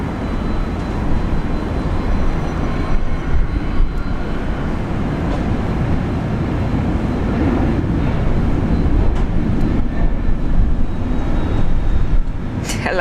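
A Fokker airliner takes off at Brisbane Airport with a loud, continuous engine roar and rumble that stays steady and close throughout.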